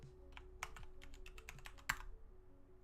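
Quick bursts of typing on a computer keyboard at a home desk, light clicky keystrokes in short uneven runs with one sharper clack near the end, quiet and close with no talk.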